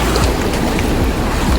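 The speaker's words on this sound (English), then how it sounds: "I hope you can hear me, the waves crashing and stuff" Ocean waves crash on a beach in a steady, loud roar of surf, mixed with gusty wind buffeting the microphone throughout.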